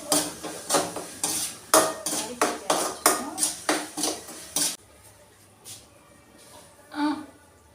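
Chicken curry stirred in a pan, a ladle scraping and knocking in a steady rhythm of about a dozen strokes, then quiet with a couple of soft clinks.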